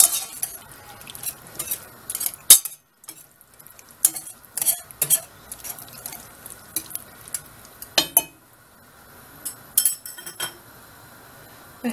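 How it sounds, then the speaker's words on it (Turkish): Stirring roast beans with tomatoes in a pan, a spoon scraping and clinking against the pan in irregular bursts with short pauses and a faint sizzle underneath, no voices. "Şimdi biraz karıştıralım."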